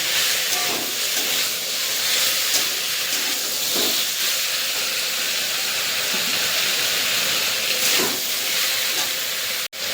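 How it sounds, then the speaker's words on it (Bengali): Boiled taro stolons frying in hot oil in a pan give off a loud, steady sizzle and hiss that runs unbroken, with a single sharp click near the end and no voices. "এবার এটা দিয়ে দেবো, দিয়ে লতিটাকে ভালো করে একটু ভেজে নেবো।"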